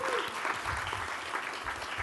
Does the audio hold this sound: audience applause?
yes